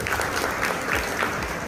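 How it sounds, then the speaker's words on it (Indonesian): Steady clapping from a workshop audience of accounting students at a university event, a dense, even wash of applause heard close and alone, without any talking. "Tepuk tangan buat Anda semua."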